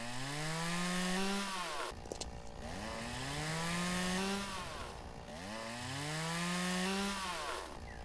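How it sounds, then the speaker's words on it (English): A chainsaw in the video game Lumberjack's Dynasty cuts through wood, its engine whine rising and falling in three long, loud revving strokes with brief dips between them. "It's an eco-friendly chainsaw."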